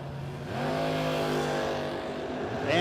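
Drag race launch between a 1965 Dodge Dart and a Chevrolet Malibu at a no-box 660 shootout, a loud rising engine roar building within the first second and holding strong, with a sharper surge at the end.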